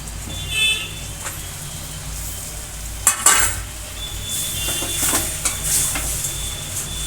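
Chicken pieces sizzle steadily in masala in a hot pan for a home-style chicken curry. Scraping stirs and a few sharp utensil knocks sit close over the constant frying hiss.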